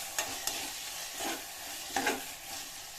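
Chopped tomatoes sizzle in a hot pan while being stirred for oats khichdi, with a steady close frying hiss and a few sharper scrapes of the spoon, and no voices.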